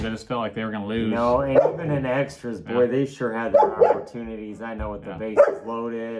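A dog barks and yips intermittently at home while people talk over it, the barking mixed in beneath the steady conversation.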